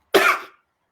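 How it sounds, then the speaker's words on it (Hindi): A single sharp cough from a man, loud and close, ending quickly into silence. "मैं खांस रहा हूं लेकिन मुझे कोरोना नहीं है"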